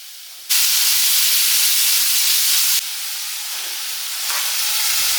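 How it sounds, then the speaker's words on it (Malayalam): Chopped onion and green chilli hit hot coconut oil in a pan with a sudden loud, steady sizzle and hiss that runs on with a slight shift partway through, no voices. "ചൂടായി വരുമ്പോൾ നമുക്ക് ഉള്ളി പച്ചമുളക് അരിഞ്ഞത് അത് നന്നാക്കിയെടുത്ത് വഴറ്റി എടുക്കാം."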